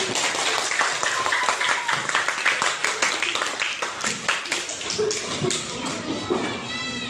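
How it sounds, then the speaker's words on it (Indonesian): A classroom of students claps for everyone at the end of a lesson, uneven near claps and taps with some thumps and scattered voices mixed in, fairly close and busy. "Tepuk tangan untuk semuanya."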